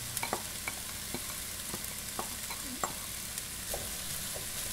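Chopped onion sautéing in a pan for a spicy zuppa toscana soup, a low steady sizzle with scattered clicks and scrapes of stirring throughout.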